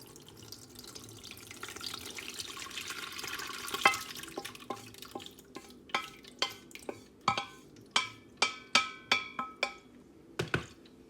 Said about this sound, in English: we're going to pour it into our strainer